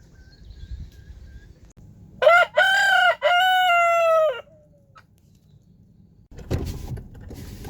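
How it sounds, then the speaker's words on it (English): Chickens and roosters in the early morning, with one loud, close rooster crow rising and holding for about two seconds against quiet background noise, followed by a rumbling noise. "Here's the chickens and the roosters. They're up and early this morning."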